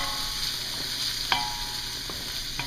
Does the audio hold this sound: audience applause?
no